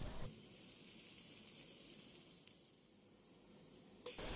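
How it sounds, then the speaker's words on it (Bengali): Chopped onion and green chilies frying with salt in oil, a faint, even sizzle held steady throughout, with a soft click near the end and no one speaking. "হাফ কাপের মতো পেঁয়াজ কুচি, কয়েকটি কাঁচামরিচ মাঝখান থেকে কেটে নিয়েছি, পরিমাণ মতো লবণ দিয়ে কিছুক্ষণ ভেজে নেব।"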